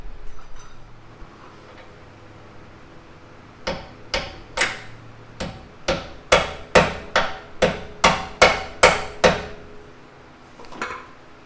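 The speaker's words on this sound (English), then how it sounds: "Get a hammer on this too, because it's a pointed edge." A hammer strikes the pointed edge of a rear shock mount on a Lexus CT200 or Toyota Prius. About a dozen sharp metallic knocks come in a quick, steady series after a quiet start, followed by one last tap.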